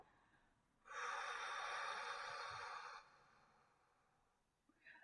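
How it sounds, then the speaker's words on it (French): A single long, steady exhale of breath lasting about two seconds during a guided relaxation exercise, close and soft, with quiet before and after. "Vous soufflez."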